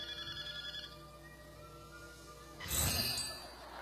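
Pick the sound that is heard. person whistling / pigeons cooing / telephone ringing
telephone ringing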